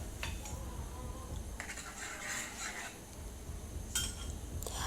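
A spoon stirs thickening homemade mango sauce, made with a little starch, in a pot, producing soft, intermittent scraping and light clinks against the metal at close range, with no talking.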